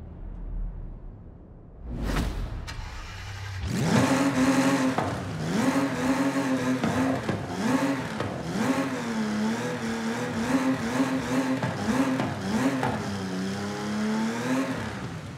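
An Aston Martin DBR1 race car in the video game Forza Horizon 5 cranks with a starter whine, then barks to life and settles into a loud, close, throbbing idle with small rises and dips in revs.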